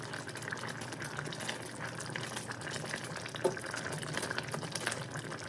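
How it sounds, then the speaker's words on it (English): Rice boiling in a pot on a single kitchen burner, giving a steady, even wash of simmering bubbles throughout, with one brief louder pop partway through. "Stir it every time when it's bubbling"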